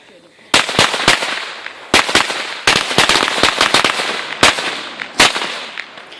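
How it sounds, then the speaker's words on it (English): A fused string of firecrackers goes off in a loud, irregular burst of sharp cracks and pops, some clustered closely and others spaced apart, over a continuous crackling hiss. "these fireworks just goes off like crazy. Ah, firecrackers."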